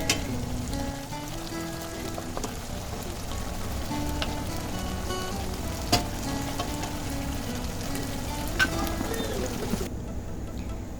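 Rice cooking in a pan for Bengali Moori Ghonto with fish and potatoes, a steady low bubbling sizzle with occasional light clinks, close by and continuous.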